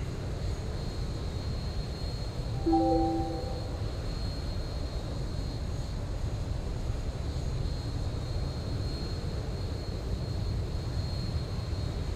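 An airliner descending in X-Plane 11, heard as a steady low engine drone with a constant high whine running throughout, broken only by a brief tonal chime early on.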